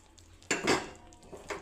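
Sesame seeds being mixed into jaggery syrup in a pan, heard as a short burst of close metal scraping and clinking from a spoon against the pan, followed by a softer second scrape.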